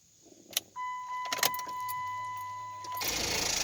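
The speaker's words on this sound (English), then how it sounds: "the battery tender just doesn't have enough gumph to kick over this Hemi" A Hemi-engined vehicle hooked to a weak battery tender fails to turn over: a steady electronic dash tone sounds with a few sharp clicks, then a loud broad rush of noise swells in at the end without any engine catching.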